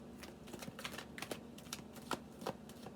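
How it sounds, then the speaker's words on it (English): Tarot cards being shuffled by hand, a quiet, close series of soft rapid riffles and light taps in irregular bursts, with no voices. "Be patient with me while I shuffle"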